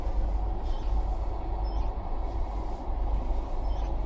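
Interior of a moving passenger train in India, running from Bangalore to Udupi, with a steady low rumble and rolling rattle, constant and fairly loud, with no voices.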